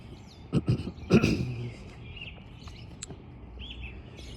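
Several short bird chirps early on, then scattered fainter tweets over a low, steady background rumble.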